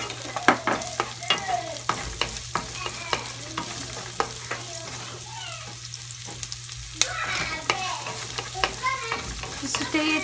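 Onion and minced garlic sauté in a pan for a shepherd's pie, a steady close sizzle under frequent clinking spatula stirs, with a brief burst of stronger hissing near the end and nobody speaking.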